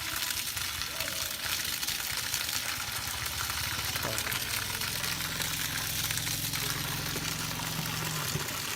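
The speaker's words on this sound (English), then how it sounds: "So the submersible is now running" A submersible water pump runs in a flooded well setup with trapped air, giving a loud, continuous watery rush and churning hum. A low drone rises partway through and holds steadily beneath the noise.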